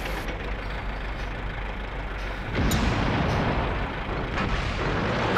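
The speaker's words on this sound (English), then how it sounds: "That's a lot of cannon." Tank cannon fire in the World of Tanks video game booms heavily over a constant low rumble of engines, with a loud blast midway followed by sustained roaring and further thuds.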